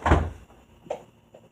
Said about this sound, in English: and they just slammed the door